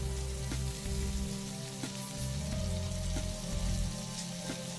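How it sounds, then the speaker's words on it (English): Minced garlic sizzling in hot vegetable oil in a pan, a steady dense frying hiss with soft popping crackles, close and continuous with no talking. "In a pan, adding some vegetable oil and fry the garlic"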